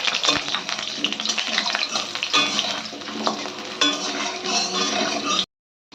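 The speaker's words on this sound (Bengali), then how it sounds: "এবার এতে আমরা টুকরো করা আলুগুলো দিয়ে দিই। আলুগুলো আমরা লাল লাল করে ভেজে নেব।" Potato pieces frying in hot mustard oil in a wok give a steady, dense sizzle with occasional stirring clatter, close and loud, cutting off abruptly near the end.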